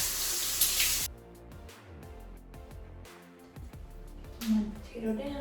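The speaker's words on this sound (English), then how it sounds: "I'm just gonna rinse them off and then peel them." Tap water splashes into a sink while potatoes are rinsed, a loud hiss of running water that then gives way to quieter rubbing and clattering handling sounds.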